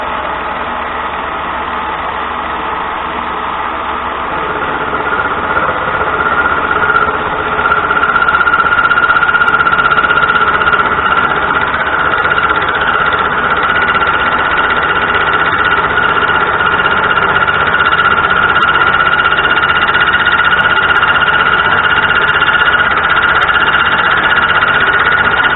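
A mini lathe runs at about 960 RPM, a steady motor whine with a strong sustained tone that swells slightly after a few seconds and then holds loud and even, with no talk.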